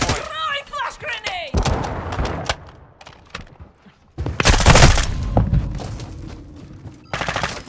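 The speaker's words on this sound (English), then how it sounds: "Throwing flash grenade!" A flash grenade thrown during a Hardpoint match in Call of Duty Modern Warfare II, amid loud gunfire bursts and a sharp blast, with a voice calling out over the clatter.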